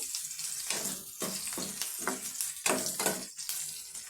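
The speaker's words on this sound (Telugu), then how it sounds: "ఈ విధంగా కొంచెం ఆనియన్ మగ్గాలి." Chopped onion softening in a pan for Mysore pappu (dal) sizzles up close, with repeated bursts of stirring breaking a steady frying hiss; no voices.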